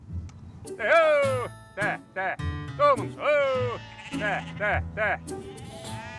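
Corsican sheep bleat repeatedly nearby, several wavering cries overlapping and following one another, with short gaps between calls.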